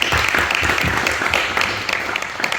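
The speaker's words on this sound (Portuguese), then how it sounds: "mais uma vez, uma força de palmas para o Brownx" Steady applause from a university audience in Portugal-speaking hall, many hands clapping at close range in a dense, continuous wash without any voices.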